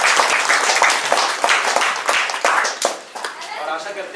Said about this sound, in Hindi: हम लोग तीनों फादरों के लिए एक बार जोरदार तालियां बजाएंगे।